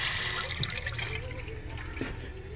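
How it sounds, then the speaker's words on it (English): Hot and cold water runs from a newly installed sink in a workshop, a steady broadband rush and trickle that fades slightly over a couple of seconds, with faint background voices. "It's hot and cold running water."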